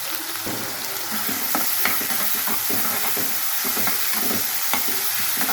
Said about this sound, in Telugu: దాంట్లో ఉల్లిపాయలు వేసేస్తాను. కొంచెం ఉప్పు వేసుకొని కలుపుకుందాం